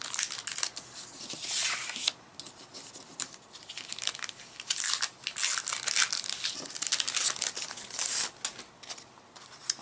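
Stickers for a handmade Valentine's card are handled and peeled from their backing, making close crinkling, tearing and crackling bursts separated by brief quieter pauses.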